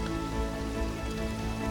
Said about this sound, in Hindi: बारिश ज़्यादा हो गई और विजिबिलिटी ऑलमोस्ट जीरो थी।